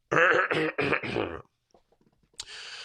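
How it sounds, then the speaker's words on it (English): Someone clears their throat in a few harsh, rasping bursts up close, followed by quiet and a brief hiss. "I'm going to try not to clear my throat."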